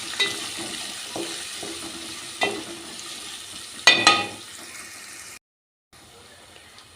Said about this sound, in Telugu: ఇప్పుడు ఈ ఆనియన్స్ కూడా ఇలా చక్కగా ఫ్రై చేసుకున్నాము